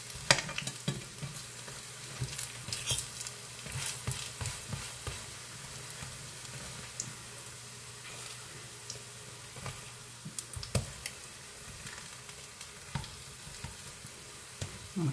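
Okra fritters sizzling steadily in hot oil on a stove, a continuous close bubbling crackle with occasional clicks and stirring taps, no voices.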